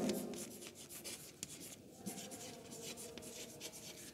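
A teacher writes stop codons on a board in a genetics lesson, making continuous close rubbing and scratching strokes that come in quick irregular bursts, quiet and without speech.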